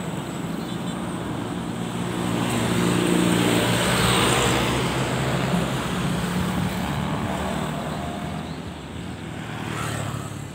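Steady roadside traffic at the Jambi–West Sumatra border, a continuous broadband rumble of passing cars and buses that swells in the middle and eases off toward the end, with no voices.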